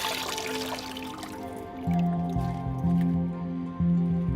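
Wet, dyed shuttlecock feathers wrung out by hand a handful at a time, giving squishy squeezes and a rhythmic dripping and trickling of water, close and steady.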